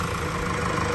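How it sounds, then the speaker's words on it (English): The 2.0L engine of a 2017 Mercedes E Class runs at a steady idle after a timing chain replacement, giving a close, even, continuous hum. "Engine is sounding all good."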